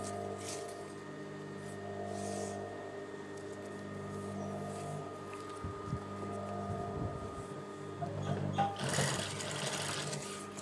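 Sewing machine stitching the fold of a semi Patiala pant leg, running in a steady continuous whir at close range with a brief louder burst near the end.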